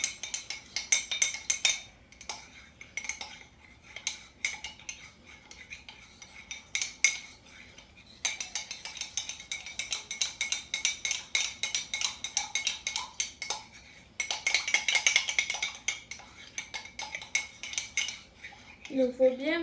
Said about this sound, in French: Donc il faut bien mélanger, ça fait un peu long à mélanger, mais c'est parce que le miel il colle